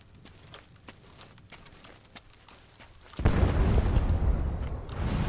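A separator tank explodes in Metal Gear Solid 5: quiet ambient clicks and footsteps, then a sudden loud, sustained boom and roaring rumble that fills the last two seconds.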